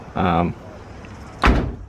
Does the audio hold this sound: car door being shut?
yes